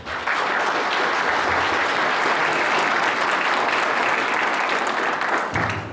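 A lecture audience claps steadily for a visiting union leader in Santa Catarina, dense sustained applause filling the room before it tapers off near the end, with no speech over it.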